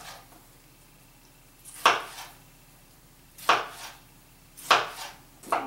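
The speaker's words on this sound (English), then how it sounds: "we're going to just kind of chunk these tomatoes more than anything else because they don't really need to be perfect" A knife cuts tomatoes into rough chunks on a board, making three or four separate sharp chops spaced about a second or more apart, close and clear with no talking.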